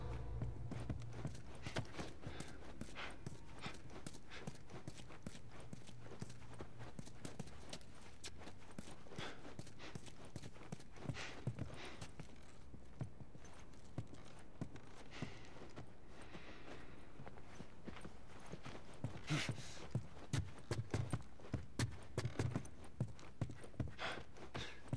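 Steady clip-clop of horse hooves walking in a video game, a continuous rhythmic trot of many quick hoofbeats, fairly faint, with no talking.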